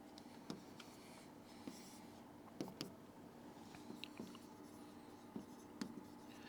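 A pen writes on a sheet of paper, a soft continuous scratching with small taps and strokes, close and quiet with no talk.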